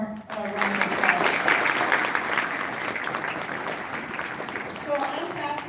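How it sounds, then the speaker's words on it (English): An audience at a live farm-family event breaks into sustained applause, a dense wash of clapping that rises quickly and holds fairly steady, with a voice speaking briefly at the start and end. "Let's give them one more round of applause."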